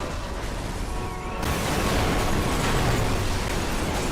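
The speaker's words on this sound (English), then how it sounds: "Look at that for a crash." Car crash explosion in the racing game Burnout 3: Takedown on PS2, a dense roaring blast of noise that swells and holds loudly for several seconds with no voices.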